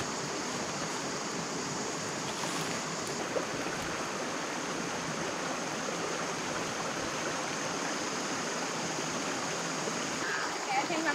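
Creek water in the Australian outback flows and rushes as a steady, close wash of noise, with no pause and no voice over it.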